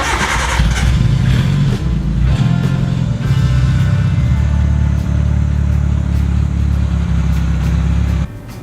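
A homemade off-road vehicle's engine starts and idles loud and close with a rough, throbbing, uneven rumble that runs steadily before cutting back near the end.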